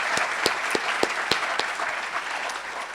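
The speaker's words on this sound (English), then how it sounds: "Let's all give them a round of applause." Audience applause for the technical crew at a civic State of Moorpark address: scattered, moderate clapping with a few sharp distinct claps standing out, fairly steady across the clip.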